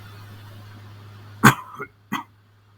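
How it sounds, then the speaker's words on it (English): Three sharp, close coughs in quick succession, the first loudest, over a steady low electrical hum. "sorry, I just needed to cough."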